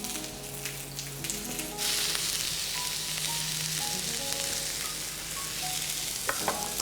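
Bread frying in plenty of oil in a pan for a zucchini, turmeric and chickpea salad, a steady dense sizzle and crackle with a few faint clinks, no talk.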